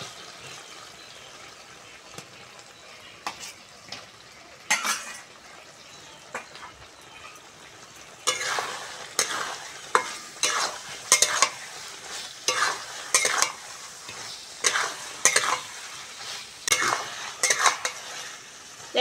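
Fried potatoes are stirred into a masala in oil for a Bengali doi potol dish. The sizzle is soft at first, then the spoon scrapes and clatters against the pan in repeated bursts. No one speaks.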